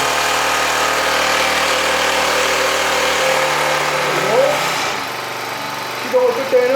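A two-handed brush cutter runs with a steady, buzzing small-engine drone as its blade spins, its pitch shifting slightly near the end, with a voice speaking over the noise.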